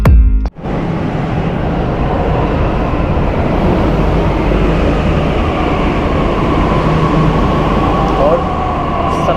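A Delhi Metro train ride heard from inside the car, a loud steady rumble and whir of the moving train with a sharp clunk at the start, continuous and close throughout.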